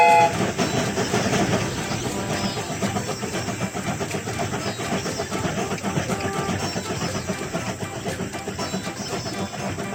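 Cartoon train in a kids' train game rolling along, a continuous rumble with rhythmic rail clatter that starts loud and eases slightly, with no speech over it.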